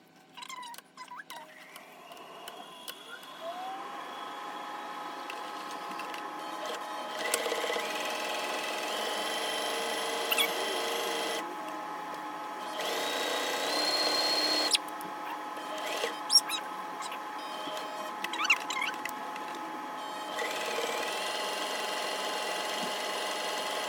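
A brand-new Singer M3220 sewing machine stitches a pair of shorts, with runs of rapid mechanical whirring broken by short pauses and small clicks, close and clear with no talking.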